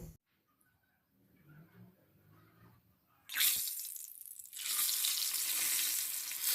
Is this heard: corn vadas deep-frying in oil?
yes